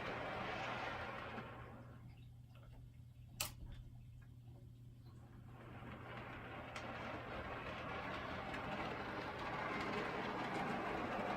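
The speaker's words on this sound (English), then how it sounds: "The only sound you can hear is the wheels on the track." A Dapol DP1 Deltic model train runs along its track, its wheels giving a soft, steady ticking clatter that carries through the whole stretch, with a brief sharp click partway through and a faint constant hum beneath.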